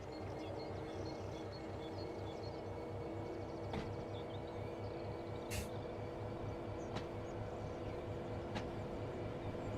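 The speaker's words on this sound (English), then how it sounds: "Drive the train back into the siding now." Simulated train driving in Train Sim World: a steady, loud low rumble and hum of a moving train continues throughout, with a few faint metallic clicks and a brief hiss near the middle.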